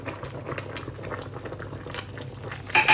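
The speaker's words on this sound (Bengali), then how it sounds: "তরকারিটা বলক উঠে আসছে" Brinjal and hilsa curry bubbling in a pot on the stove, a busy burble of popping bubbles and low liquid churning, steady and close, ending in a brief louder clatter.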